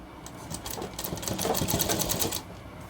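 A sewing machine stitches a shirt in one short, close burst of rapid, even needle clatter lasting about two seconds before stopping.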